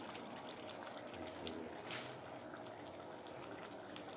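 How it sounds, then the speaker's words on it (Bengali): Fish curry simmering in a pot, a steady close hiss of bubbling that stays even throughout with a couple of slightly louder bursts and no voices. "মাছের ঝোলটা একটুখানি ফুটিয়ে নিয়ে তারপরে আমি একটু নামানোর আগে গরম মশলা দেবো।"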